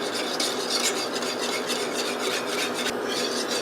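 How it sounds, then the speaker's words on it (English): A whisk stirs enchilada sauce briskly in a bowl or pan, making continuous rapid scraping and clinking strokes up close, loud and steady without talk. "We're going to whisk this together."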